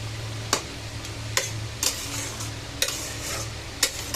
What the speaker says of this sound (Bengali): ভাজা মাছটা জলের ভিতর দিয়ে দিলাম পাতলা ঝোল যেহেতু বানাবো